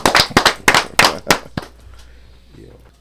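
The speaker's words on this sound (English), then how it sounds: "Clap it up. We got to clap it up for these brothers." A small group claps loudly for a breakdance crew, the sharp claps close and rapid. They fade out within about two seconds into near silence.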